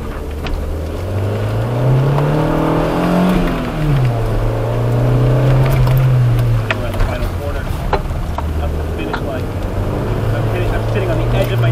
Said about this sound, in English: Up next, we have a 2013 Subaru STI